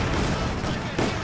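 Gunfire in Company of Heroes 2 amid a combined Soviet, British and US battle against Axis tanks: a dense, steady wash of battle noise and shots with no clear gaps, loud throughout.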